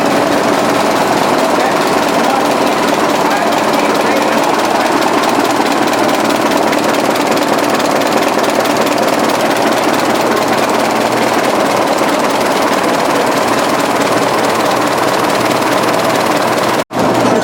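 A 1920s generator set engine runs steadily indoors, a loud, dense, rhythmic knocking chug that continues without pause for the whole stretch, close and unaccompanied by talk.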